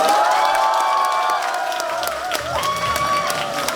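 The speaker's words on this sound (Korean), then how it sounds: "다시 한번 큰 박수 부탁드리겠습니다." A crowd applauds and cheers steadily at a campaign office opening for a Reform Party candidate in Hwaseong, dense clapping sustained throughout with a faint voice surfacing near the end.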